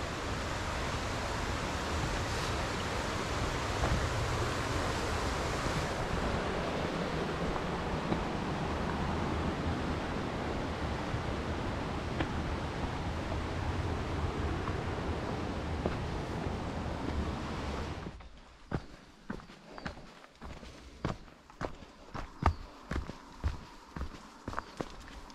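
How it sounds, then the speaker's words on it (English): Rushing river water flowing right beside a woodland hiking path in Snowdonia, a steady broadband roar filling the first eighteen seconds before it drops away to quieter surroundings with crunching footsteps. "it's just phenomenal next to the river here. Hopefully it's not too loud on the audio"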